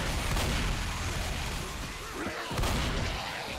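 Gunfire in Left 4 Dead survival mode: dense, steady rattling shots and booms filling the whole stretch, loud and continuous with a brief dip before resuming.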